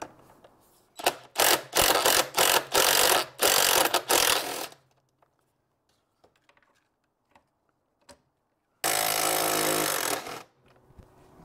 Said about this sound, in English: Cheating a little bit using a T40 on an impact wrench